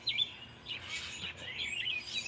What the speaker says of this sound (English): Sounds matter? like an aviary.